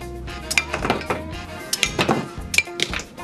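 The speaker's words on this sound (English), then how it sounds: "to launch the coconut, we just push down right here" A plastic toy coconut launcher is pressed and fires a coconut at small tiki targets, giving a quick run of hollow clacks, thunks and clinks close up, with brief pauses between hits.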